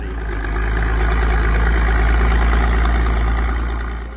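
A classic 44 tractor engine running at a steady idle, a loud continuous low rumble with even throb, close and alone.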